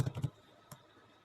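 Enter key on a computer keyboard pressed while building an Excel chart: a short burst of three close keystroke clicks, then one more isolated click in a quiet room.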